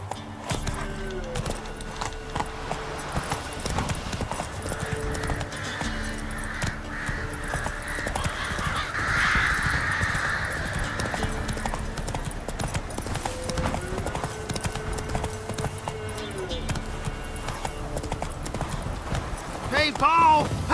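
Roach the horse trots through The Witcher 3 with a steady clip-clop of hooves that runs throughout. Crows caw nearby, and game music and ambience play beneath the hooves.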